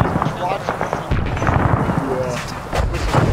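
Incoming artillery shells land in a combined arms military video game, sharp booms and crackling blasts scattered across the clip under a player's radio chatter.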